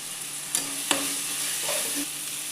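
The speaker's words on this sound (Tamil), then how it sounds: "உப்பு சேர்க்கும்போது நமக்கு போட்ட தக்காளி வெங்காயம் எல்லாம் சீக்கிரமாக வறுபடுங்க" Tomatoes, onions, green chillies and curry leaves frying in a pan with a steady sizzle, broken by a couple of scraping stirs, close and moderately loud.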